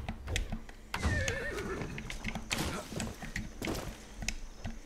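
A horse in the video game Far Cry 6 neighs and whinnies with a rising, wavering call, alongside clip-clopping hooves and other game sounds, loud and close.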